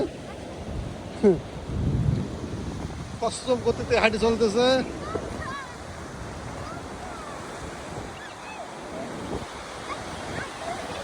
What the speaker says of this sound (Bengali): সমুদ্রে ঢেউ চলে আসতেছে